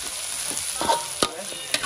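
Stir-frying red curry paste in a hot pan: a steady loud sizzle with a few sharp scrapes and clacks of the utensil, close up and without voices.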